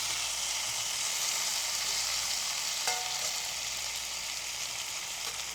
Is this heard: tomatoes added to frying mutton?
yes